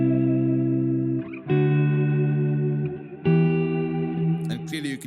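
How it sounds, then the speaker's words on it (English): An electric guitar plays sustained chords through a Strymon BigSky pedal on a non-linear phase reverb setting with heavy modulation, three loud ringing chords swelling with shimmering tails, ending in brief scratchy string noise. "next up we've got a non-linear kind of phase reverb"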